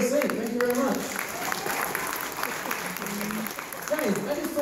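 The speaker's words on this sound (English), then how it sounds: "Ladies and gentlemen, round of applause for Mia as she returns back to her seat." A crowd claps and applauds continuously while voices talk and cheer over the clapping.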